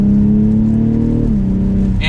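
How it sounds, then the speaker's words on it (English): A 2023 BMW X6 xDrive40i SUV with M Sport exhaust revs hard and climbs steadily in pitch, a deep throaty exhaust drone running close and loud throughout. "With that M Sport exhaust, it will get slightly louder."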